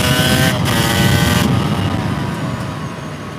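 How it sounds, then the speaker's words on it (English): A Yamaha YZ250 two-stroke supermoto engine revs loudly and close by, holding a strong, buzzing drone that eases slightly in pitch and level toward the end. "the RPMs rise when I let out that clutch and it's in a lower gear like that right there versus pulling in the clutch"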